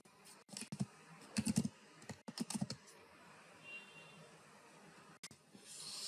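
Keys clacking on a computer keyboard while a dotnet new webapi command is typed, in quick bursts of taps with short pauses between them, close and fairly quiet.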